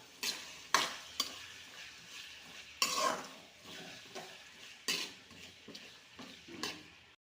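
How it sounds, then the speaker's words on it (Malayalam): Onions for a beef curry being stirred with salt in a pan, a spoon scraping and clinking against the metal in irregular strokes over a soft, steady frying sizzle. "ഇത് നന്നായിട്ട് ഒന്ന് ഇളക്കി കൊടുക്കാം"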